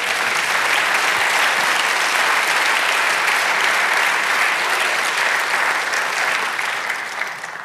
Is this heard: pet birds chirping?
no